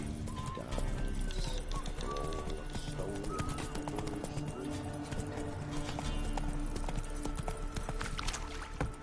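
Hooves of Roach, Geralt's horse in The Witcher 3: Wild Hunt, clip-clop steadily at a gallop throughout, loud and close, with game music, ambience and occasional voices layered around them.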